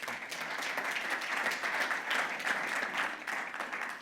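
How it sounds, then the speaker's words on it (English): Sustained audience applause at the close of a talk on strategic sourcing under free trade agreements, a steady dense wash of many hands clapping at moderate volume throughout. "Big round of applause."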